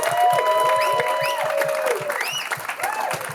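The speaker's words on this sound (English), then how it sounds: "Let's have a round of applause for our panelists, please." An audience at a music industry panel applauds, with steady, lively clapping held at an even level throughout, alongside some tonal chirps and whistles in the room.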